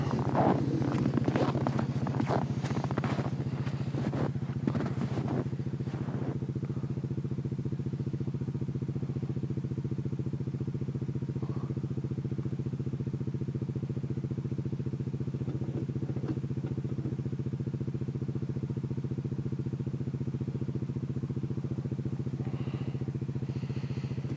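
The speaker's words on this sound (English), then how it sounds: "if you have a four-wheeler with a snow plow on it, you could use that, as it is shown here" A four-wheeler ATV fitted with a snow plow pushes snow along a runway, its engine a steady, moderately loud drone throughout, with some clattering and scraping mostly in the first few seconds.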